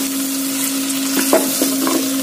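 Ivy gourd fries over a medium flame in a pan, a loud steady sizzle with a low hum beneath and a few soft scraping stirs near the end, close up and without talk.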